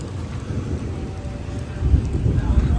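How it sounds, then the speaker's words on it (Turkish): Steady rain falls in Medina, a continuous broadband wash that swells a little louder near the end, with a low rumble underneath. "Çok güzel yağmur yağıyor."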